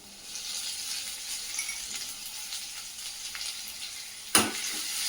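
Panch phoron spices, onion and garlic sizzling steadily in a hot pan, a soft continuous fry with a brief sharp clatter near the end.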